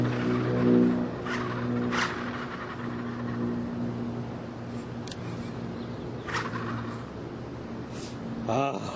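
Small JJRC Q46 RC car racing fast, a high electric motor whine and tyre noise rising and falling, heard beneath a voice talking over it.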